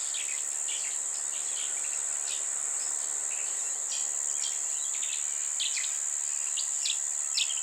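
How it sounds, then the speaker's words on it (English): Outdoor dawn field recording of crickets holding a steady high continuous chirring, with scattered bird chirps and tweets dotted throughout, no voices. "point it at the tops of trees and capture all those sounds of the birds, then aim it at the ground and capture the frogs and the crickets"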